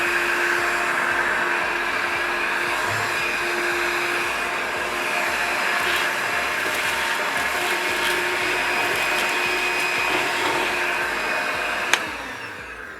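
Einhell TE-HV 18/06 Li cordless handheld vacuum running steadily in eco mode, a continuous close whine with an even pitch and no talk, ending in a short click near the end.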